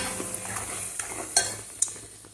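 Spices sizzle and fry in a pan while a spoon stirs them, with soft scrapes and a few sharp clinks of metal against the pan, heard close and without talk.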